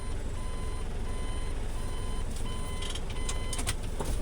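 A vehicle moving aside with its reversing alarm on: a steady series of repeating electronic beeps rides over loud, constant engine and road rumble, with no voices.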